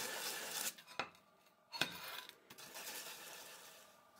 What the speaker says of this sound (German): Die scharfen Schnittkanten sollten mit einer Feile oder Schleifpapier geglättet werden.